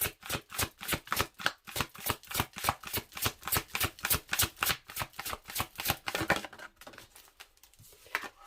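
Tarot cards shuffled by hand in a quick, steady rhythm of crisp riffling flutters that continue for several seconds, then fade into quieter handling near the end.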